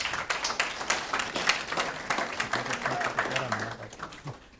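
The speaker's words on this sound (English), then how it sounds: "Let's give him or her a round of applause." An audience at a university research day presentation session claps in a brief burst of scattered applause, while a person speaks over it near the microphone.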